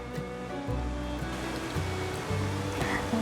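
Water pours into a plastic food storage container, a steady close splashing and gurgling rush that lasts throughout with no talking.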